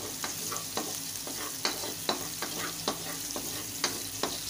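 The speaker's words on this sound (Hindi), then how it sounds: "ये लहसुन चॉप किया हुआ और हरी मिर्च जो है वो मैं ऐड कर रहा हूँ और इसे फ्राई करेंगे इस तरीके से।" Chopped garlic and green chilies frying in hot oil for chilli chicken, a steady close sizzle broken by regular spoon scrapes and taps against the pan.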